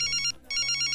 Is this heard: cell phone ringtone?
yes